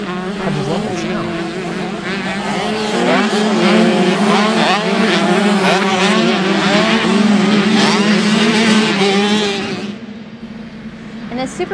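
Motocross dirt bikes on a race track at a Finger Lakes/MXP amateur racing shootout, engines revving hard and wailing as they land off jumps. The loud, continuous buzz rises and falls with an announcer talking over it.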